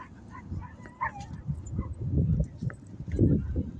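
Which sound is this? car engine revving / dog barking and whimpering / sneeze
dog barking and whimpering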